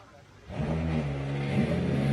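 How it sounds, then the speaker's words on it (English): Several GT race car engines fire up together on the starting grid at the Rose Cup Races, a low rumbling idle that swells suddenly and holds steady with rising revs, under faint crowd murmur. "Drivers, start your engines."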